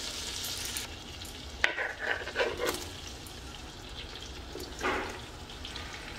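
Finely chopped onion and capsicum sauté in butter for pav bhaji, a soft, fairly quiet sizzle with scraping stirring strokes and clinks scattered through it.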